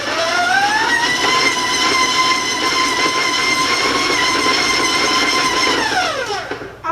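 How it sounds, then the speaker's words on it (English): A stand mixer beating room-temperature butter gives a loud, steady mechanical whir with a constant motor whine that holds for about six seconds, then winds down as it is switched off. "So I'm going to turn on the mixer, going to give you a heads up because it can sound loud"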